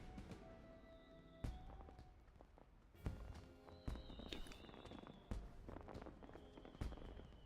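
In Final Fantasy XIV, footsteps approach as a series of sharp, irregular steps over a quiet background with faint tonal game ambience.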